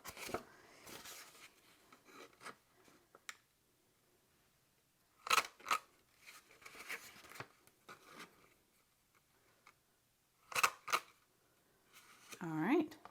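Paper corners punched one after another with a Crop-a-dile Corner Chomper, giving sharp, close clicks and crunches in a few separated bursts, with a person talking quietly between them.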